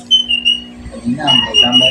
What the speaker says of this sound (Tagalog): Kumakanta na si Cockatiel sa taas eh.